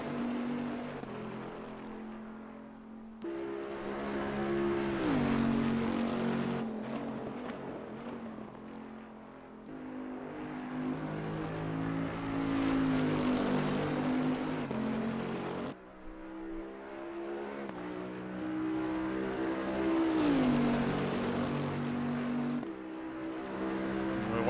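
A Bentley GT3 race car engine in Assetto Corsa Competizione at Monza drones at high revs, climbing through gears with brief dips at each upshift, a steady loud engine note throughout with no talking.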